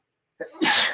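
A single sneeze close to the mic: a short intake of breath, then one loud, explosive burst with nothing else around it.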